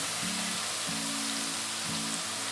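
Onion, curry leaves and crushed garlic sizzle steadily as they sauté in hot oil with browned lentils for spicy garlic rice, a continuous close hiss with no one talking.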